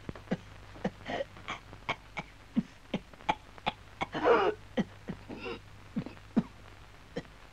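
A man coughs and clears his throat over and over in a Turkish film scene, with sharp, fairly regular hacks and one longer, strained rasp partway through, close and moderately loud.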